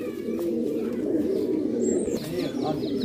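Pigeons coo in low, throaty repeated phrases from birds being shown for sale, with a faint chirp and some background noise around them.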